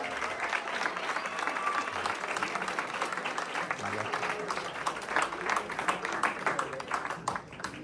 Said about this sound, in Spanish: queremos brindarle un fuerte aplauso al doctor por esta plática